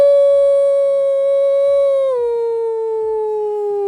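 A howling alert sound on a live stream: a single loud, clean, sustained howl that holds its pitch, then slides lower near the end, heard alone.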